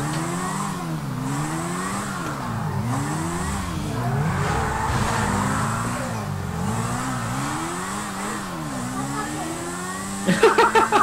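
A car in the GTA V video game drives continuously, its engine note repeatedly rising and falling through gear changes while the tyres skid and squeal, ending with a burst of sharp impacts.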